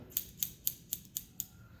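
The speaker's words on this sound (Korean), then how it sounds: "앞쪽이 길어지는 라인으로 잘라야 돼요" Hairdressing scissors snip through a man's hair during a dandy-style men's cut, six crisp, evenly spaced metallic clicks in a steady rhythm, close and clear with no talk.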